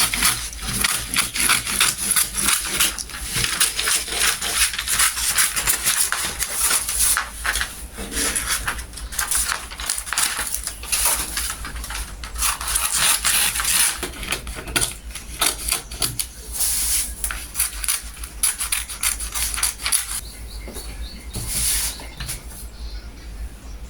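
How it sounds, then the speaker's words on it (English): Scissors cutting through a paper sleeve pattern piece for a little red dress, a steady run of close, crisp snipping and rustling that continues nearly unbroken. "let me just cut off this part so that you can see it"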